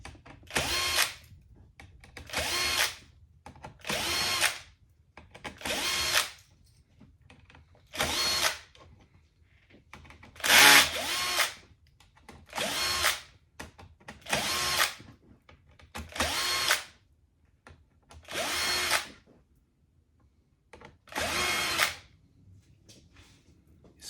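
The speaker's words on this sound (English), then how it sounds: "I'm gonna go ahead and remove those screws." Power drill backing screws out of a Rane One DJ controller, about eleven short whirring bursts in a steady rhythm with quiet pauses between, close and clear with no talking.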